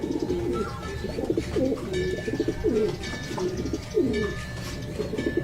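Racing pigeons coo steadily in a loft, a dense overlapping chorus of low throaty calls that continues throughout at close range, with a few higher chirps mixed in.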